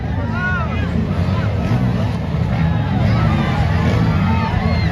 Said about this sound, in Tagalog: Sigawan ng mga tao